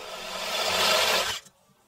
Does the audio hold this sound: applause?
no